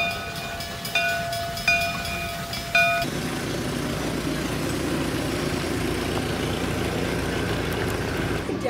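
A train runs at an Iowa country fair, and a rhythmic metallic ringing or bell-like tone repeats at first, then gives way to a steady rumbling roll. It is moderately distant, with no talking.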